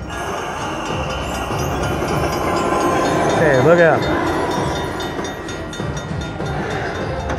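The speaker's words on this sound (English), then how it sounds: "There's the train." Train feature sound from a Cash Express slot machine game: a loud, steady rumbling rail clatter with a rising squeal or whistle midway, and a brief voice speaking over it.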